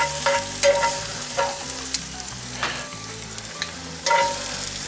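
Garlic and apples sizzling in a hot cast iron pan on a grill, a constant crackling fry with occasional scraping stirs, loud and close with no talk.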